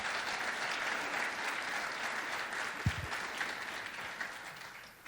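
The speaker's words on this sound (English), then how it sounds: "can you give them a round of applause" Sustained audience applause at a Martin Luther King Jr. Day community program, a dense steady patter of many hands clapping at moderate distance, with a couple of brief low thumps partway through.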